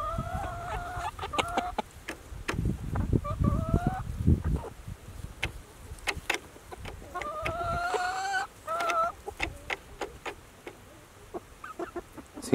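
Hens and small chicks on a farm: a mother hen gives repeated low clucks while chicks cheep in high rising peeps in several bursts, close by, with scattered pecking and rustling and no speech.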